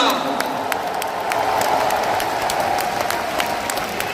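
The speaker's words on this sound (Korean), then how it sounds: "박수 한번 부탁드립니다." Crowd applause at a Korean party primary victory event honoring candidates Kim Kyung-soo and Kim Dong-yeon, steady dense clapping filling the full stretch with a voice speaking over it.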